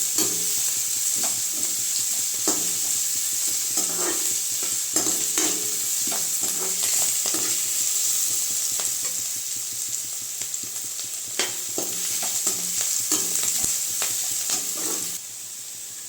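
Chopped carrots and mixed vegetables sautéing in a pan for corn fried rice, a continuous close sizzle broken by regular scraping stirs, steady throughout and without voices.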